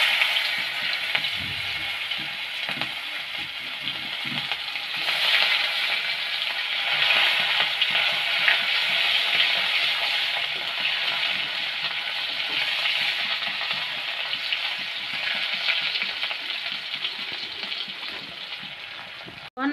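Onions fry in hot oil for a potato and eggplant fish curry, giving a loud, steady sizzle with crackling spits and occasional stirring, heard close up with no talk.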